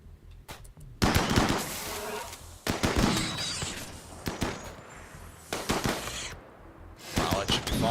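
Rapid bursts of automatic fire from turrets in a video game, loud clattering volleys with short quiet gaps between them, and a voice speaking now and then.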